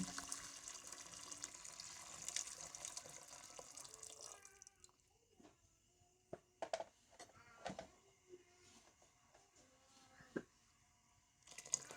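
Water runs and splashes into a cooking pot of beef for several seconds, then gives way to scattered clinks, drips and light knocks, all fairly quiet.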